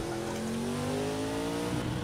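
Race car engine in Project Cars 2 cranking and catching, a steady loud harmonic drone with pitch rising gradually like revving, continuous and close with no talk.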